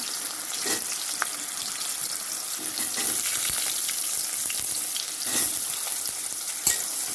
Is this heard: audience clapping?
no